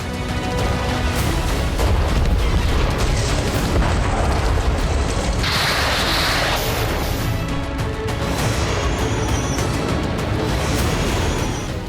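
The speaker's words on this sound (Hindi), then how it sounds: "इस बार रूसी डिफेंस ने ओडेसा में जिस विनाशक का इस्तेमाल किया वो फैब 3000 था, जो कि एक स्पेशल ग्लाइडेड बम है" Heavy glided-bomb blasts from FAB-3000 munitions striking Odesa, a continuous loud roar of deep rumbling booms and crashing debris with a burst of hiss midway, sustained throughout.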